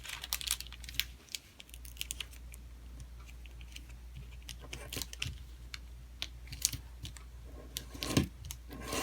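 Paper is folded and unfolded for an origami Venus flytrap, giving close, crisp crinkles and sharp creasing clicks in uneven bursts.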